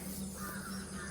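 Crows caw repeatedly in the distance over a steady low hum, with no voices present.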